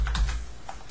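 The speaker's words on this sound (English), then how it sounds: "I'll type in June" Quick keystrokes on a computer keyboard while entering a fiscal-year month in accounting software, a few close clicks sounding alone without speech.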